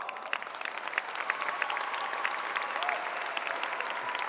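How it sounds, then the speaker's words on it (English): An audience at a high school graduation commencement ceremony claps steadily, a dense spatter of applause heard from a short distance, lasting a few seconds. "give them a round of applause"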